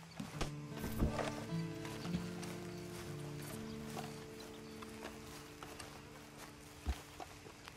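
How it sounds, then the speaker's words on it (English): Horse hooves clip-clopping in the Western video game Red Dead Online, a soft steady walking rhythm sitting under a low tonal music bed, with a few sharper thuds. "Then you better get on this horse."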